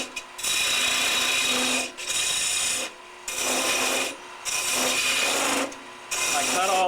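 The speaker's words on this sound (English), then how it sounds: "First I'll just mark that edge off with a skew." A skew chisel marks off the edge of a wooden ornament spinning on a lathe, giving loud rasping cuts in four or five bursts separated by brief pauses.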